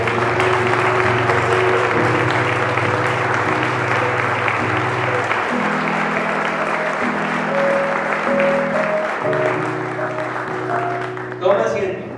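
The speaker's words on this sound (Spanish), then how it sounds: "damos un fuerte aplauso al Rey" A church congregation applauding loudly and continuously while sustained organ or keyboard chords play underneath, tapering off at the end.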